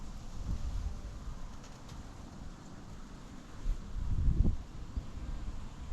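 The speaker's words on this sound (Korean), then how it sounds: "이런 바람 소리 들으시나요?" Low, gusty wind at a hostel in London rumbles and buffets the microphone, swelling briefly near the end; quiet overall, with no voices.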